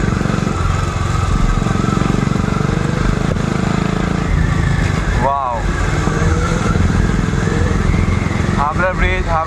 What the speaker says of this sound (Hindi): और सुपर बाइक साथ में BMW की 1000 RR